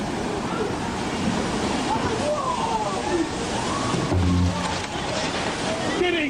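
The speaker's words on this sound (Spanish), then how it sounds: "That wave is a good 15, 20 feet tall." The 2004 Indonesian tsunami wave surges and sloshes in a loud, turbulent roar of churning water that carries on without a break, with rumbling low swells and faint voices mixed in.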